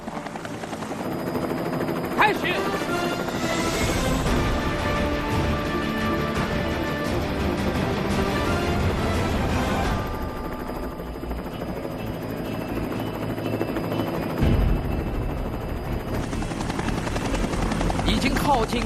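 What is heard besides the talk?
helicopter hovering during a precision control challenge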